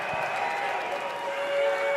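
Fans at a Call of Duty League esports tournament cheer and applaud in a large venue, a sustained wash of clapping and crowd noise with a steady tone running underneath.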